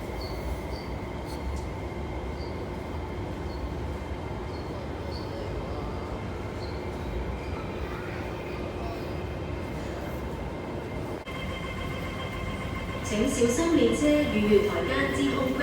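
A crowded MTR train pulls into Tsuen Wan West Station in Hong Kong, a steady low rumble of rolling wheels with rising squeals and clatter near the end as the cars come close.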